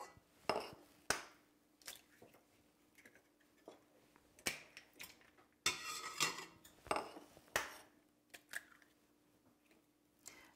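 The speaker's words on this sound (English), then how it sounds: "we're going to beat the eggs" Eggs, sugar and oil are beaten together in a bowl for pumpkin bread, with uneven bursts of clinking and tapping utensil strokes against the bowl, close and moderately quiet with short gaps between strokes.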